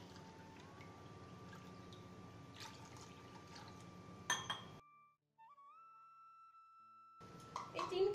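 Three cups of water poured into a vessel to make sugar syrup for amla murabba: a steady, close splashing stream for about five seconds ending in a glassy clink, then a brief hush, with soft sustained musical tones underneath.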